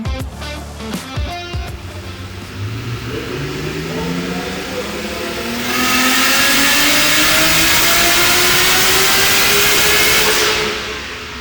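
A 1,100-horsepower Nissan GTR engine runs on a dyno at Summernats car festival, its pitch climbing steadily through a long loud rev before a roaring full-load peak that cuts off near the end.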